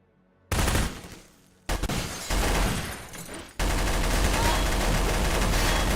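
Heavy gunfire in the video game Respite: loud, dense bursts of automatic fire that start abruptly, break off briefly, then return as a sustained roar for the rest of the stretch.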